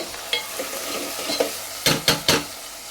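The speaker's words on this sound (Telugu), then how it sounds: "ఫ్రై చేసుకుందాం" Onions fry for a fish curry with a steady close sizzle, broken by a few sharp scrapes and clinks of a spoon stirring against the pan.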